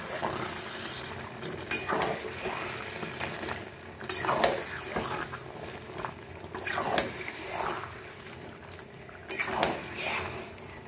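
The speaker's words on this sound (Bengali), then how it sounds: "ভালো করে কষাবো মশলার সাথে" Mutton pieces sautéed with spices in a pan for a Bengali mutton curry, a steady close sizzle broken by repeated scraping stirs of a spoon against the metal.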